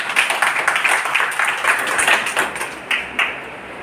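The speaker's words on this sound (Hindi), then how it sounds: "अपने स्वास्थ्य को ठीक रखने के लिए तालियां बजा दो" Audience clapping at a book launch for a Hindi poetry collection, a steady close patter of many hands with sharper individual claps standing out near the end, heard without talk.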